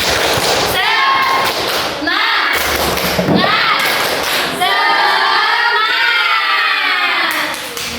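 Second-grade schoolchildren in a classroom doing a rhythmic group clapping routine, bursts of loud hand claps and thuds mixed with children's voices chanting and the teacher talking.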